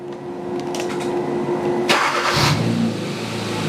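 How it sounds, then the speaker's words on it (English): A Hyundai GDI 1.6L engine on a training stand cranks and fires up, catching with a burst partway through and settling into a steady idle, loud and close, with no talk. "We'll fire up the engine."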